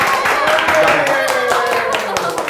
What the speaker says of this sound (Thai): จะรออะไรปรบมือสิครับ